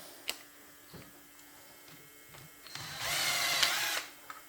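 A power tool fitted with a socket spins out case bolts on a Yamaha Vmax 1200 engine, with a short burst around the middle and a louder, sustained whir near the end, set among faint clicks and knocks.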